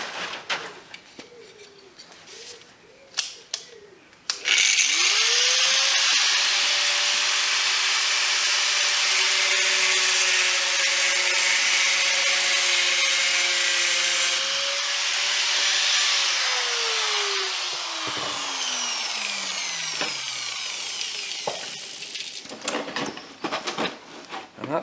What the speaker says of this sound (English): Cut this to size using a grinder.